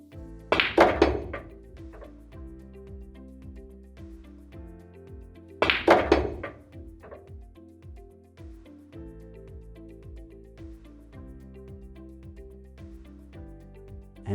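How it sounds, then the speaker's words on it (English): Two sharp pool cue-ball strikes on the 6 ball, the first near the start and the second about five seconds later, each a crisp click with brief rattle, set against a quiet room hum and no voices. "So I personally aim the 6 ball around here, and that way the cue ball deflects and I will make the 6 ball."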